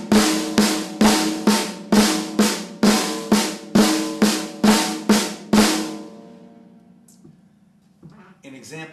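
A drum plays a flam tap pattern, sharp doubled strokes in an even, driving rhythm, then fades into ringing and a brief voice.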